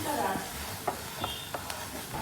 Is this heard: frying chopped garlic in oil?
yes